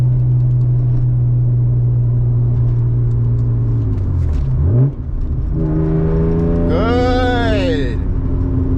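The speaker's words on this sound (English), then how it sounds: "I'm gonna brake, then clutch in, then rev match." BMW E36 engine under braking, holding a steady low drone, then dipping as the clutch goes in before a quick rev-match blip rises sharply and falls, loud and close from inside the car.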